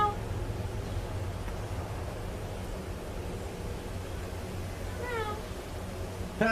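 After a stretch of steady low hum and hiss, a cat gives a single rising meow, followed by a brief clatter at the end.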